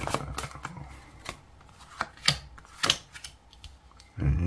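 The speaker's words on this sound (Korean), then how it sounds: "자, 카드를 섞고 펼쳤습니다." Tarot cards shuffled and spread on a table, a quiet run of soft riffling flicks and papery slides in uneven bursts, close up, ending in a louder rustle.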